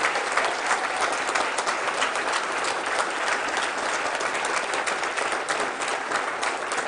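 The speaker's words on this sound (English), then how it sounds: "a nice round of applause for these people putting the names forward for this year" Sustained, dense applause from a crowd at a Chamber of Commerce candidates' event, a steady wash of many hands clapping at once with no voices on top, holding at an even level throughout.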